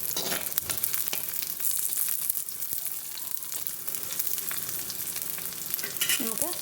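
Green chillies and curry leaves frying in a pan for a papaya and green gram thoran, a constant close sizzle with spoon stirring and occasional scrapes, no talk.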